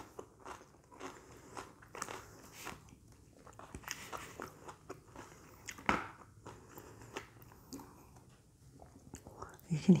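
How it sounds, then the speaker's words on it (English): Raw cucumber bitten and chewed at a hospital lunch: close, crisp crunches and wet chewing repeat irregularly throughout, with faint murmuring in the background. "You can hear that crunch."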